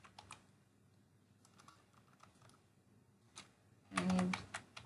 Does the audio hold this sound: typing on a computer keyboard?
yes